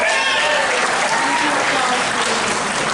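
Loud, dense clapping from a crowd at an annual meeting as vote results are announced, sustained and even for the whole stretch, with faint voices underneath.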